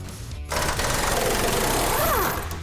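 An impact wrench drives the K-member bolts on a 1968 GTX with one sustained, loud mechanical rattling burst of about two seconds, after a brief quieter moment at the start.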